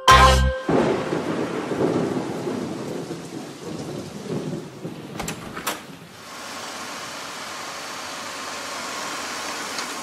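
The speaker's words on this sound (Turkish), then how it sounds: "Yağmur, örümcek ıslandı." Rain and thunder in a children's cartoon: a sharp thunder crack opens, followed by steady rainfall, a second brief rumble, then continuous rain hiss to the end.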